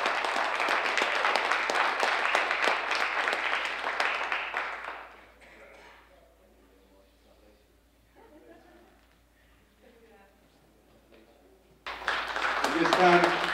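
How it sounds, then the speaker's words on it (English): Crowd applause at a city Veterans Day ceremony, a full, dense burst of clapping lasting about five seconds that fades into quiet with voices and murmur, then a fresh surge of clapping near the end. "Big round of applause for their service."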